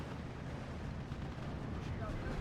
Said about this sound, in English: T-34-85 takes a direct rocket strike.